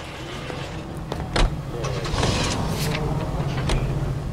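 A commandeered car in the L.A. Noire video game starts up and drives off, with its engine running at a low rumble, a sharp knock, and a steady mid-pitched hum growing slightly louder.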